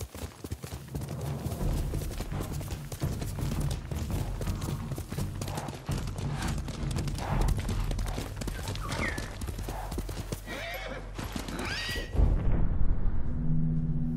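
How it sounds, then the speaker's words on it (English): Horse galloping in the video game Ghost of Tsushima, rapid rhythmic hoofbeats pounding steadily throughout, with a couple of whinnies and a short call from the rider near the end. "Good horse. Hey-ya!"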